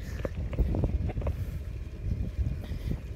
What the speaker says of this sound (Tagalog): Mahangin pa mo.